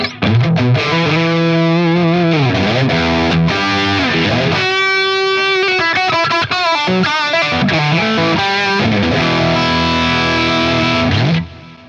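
A heavily distorted electric guitar, an Ed O'Brien signature Stratocaster with sustainer on the bridge pickup, plays sustained, ringing notes and bends, with long, unbroken sustain throughout and no talking.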